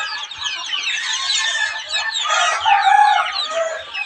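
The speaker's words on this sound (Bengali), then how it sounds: "পঞ্চাশ দিন বয়সী অরিজিনালি পিওর দেশি মুরগির বাচ্চা" A crowd of fifty-day-old pure desi chicken chicks cheeps and clucks continuously, a busy, high-pitched chorus of overlapping calls close by.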